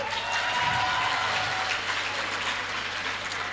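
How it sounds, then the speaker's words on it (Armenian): An audience claps continuously at a live music event, a broad, even roar of applause that stays loud and dense throughout without voices standing out. "Եկեք բոլորս մեր ծափահարություններով բարձր հաջողություն մաղթենք մեր Արամեն Պետրին"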